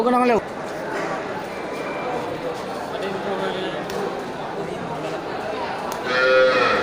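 An Aceh cow moos loudly at the start and again near the end, with a livestock market crowd in Bireuen talking and bustling throughout.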